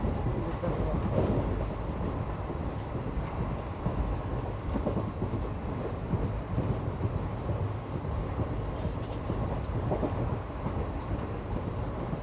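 A passenger train bound for Visakhapatnam rolls along, giving a steady, loud, continuous rumble and rattle of wheels and carriages throughout, with faint clicks on top.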